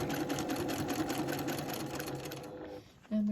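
A sewing machine runs steadily at a fast, even hum during free-motion quilting, stopping near the end, followed by a brief tone.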